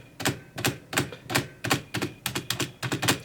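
Membrane keyboard typing with the spacebar springing back, a steady run of about ten evenly spaced clacks with a springy rebound on each press, close and loud with no talk.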